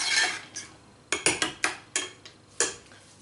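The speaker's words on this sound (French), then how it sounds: "On va broyer nos cacahuètes. Voilà, on les casse grossièrement" Peanuts are coarsely crushed by hand in a kitchen, giving a series of about seven sharp, close cracking and clattering impacts in an irregular rhythm, each with a short rattle, and no talking.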